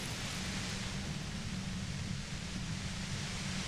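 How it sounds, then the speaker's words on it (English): Violent, overwhelming white noise from a compressor in Disco Elysium, a loud, steady, broadband hiss with a heavier low roar that holds unbroken throughout, with no voices. "The violent white noise becomes even more overwhelming closer to the compressor."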